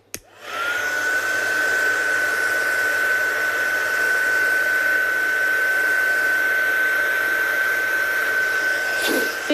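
Steady whirring of a heat or craft dryer drying stamped ink on a handmade card, starting abruptly and holding a constant high whine for about nine seconds before clicking off.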